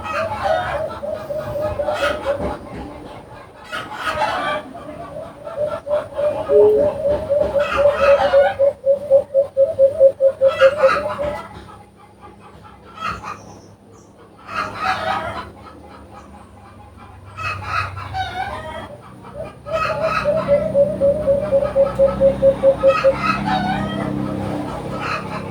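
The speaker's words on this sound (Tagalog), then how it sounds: "sabaan pud kaayo og mga manok" Chickens cluck repeatedly nearby, while a rooster crows several long drawn-out calls, loud and close, against a busy farmyard background.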